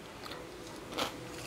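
Raw celery is bitten, Korean style, with a single crisp crunch about two-thirds of the way through, close and fairly quiet against a soft background.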